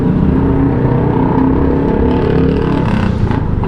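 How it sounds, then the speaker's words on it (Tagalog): Loud, roaring truck exhaust rumbling continuously close by, a heavy low engine drone with rough harmonics and a slight rise in revs near the end, no talking over it. "Grabe naman tambutso na yan"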